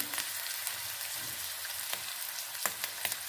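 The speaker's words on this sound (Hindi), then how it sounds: "ये अच्छे से ड्राई हो गए, इसको हमने अच्छे से भून लिया।" Minced beef keema frying on a tawa, a steady broadband sizzle with faint crackles and a few scraping stirs, close and fairly quiet, with no talking.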